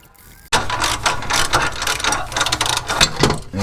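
A hand ratchet clicks rapidly and close by while removing bolts from a catalytic converter on a 2006 Nissan Altima, in several quick bursts of sharp pawl clatter after a quiet start.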